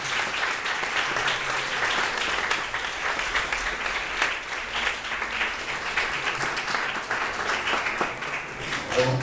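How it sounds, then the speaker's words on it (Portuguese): A church congregation applauds: sustained, dense clapping from many people, even and continuous throughout, filling a large room at a moderate level with no talking. "Aplauda o nome do Senhor Jesus"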